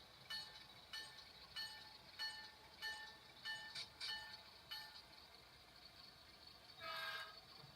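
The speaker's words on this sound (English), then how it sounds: "My only sound locomotive." Very faint, thin horn toots from a model train locomotive's sound system in a short repeated pattern, followed by a longer blast near the end, quiet and small-sounding.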